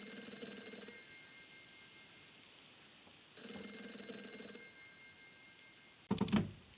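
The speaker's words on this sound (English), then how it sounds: "How did you know the phone would ring just now?" Telephone ringing in two bursts with a pause between, moderately loud and alone in a quiet room, followed by a short clatter as the handset is picked up.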